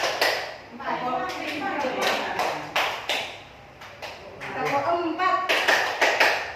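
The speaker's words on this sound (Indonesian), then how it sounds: "Tepuk 1, tepuk 2, tepuk 3, tepuk 4," Rhythmic hand clapping in short counted groups, sharp claps in bursts of increasing number, close and fairly loud, alternating with an adult voice speaking between the sets.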